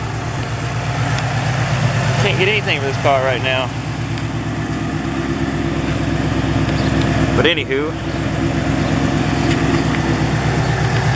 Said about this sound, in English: guys were saying that on this exhaust to not get it because of the drone